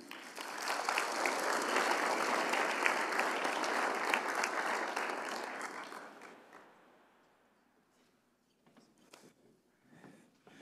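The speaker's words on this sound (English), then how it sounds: "Please give a round of applause for Emma and Jimmy." Audience applause at a university leadership and service awards ceremony: dense, sustained clapping from a large crowd for about six seconds, then tapering off into near silence with a few scattered claps at the end.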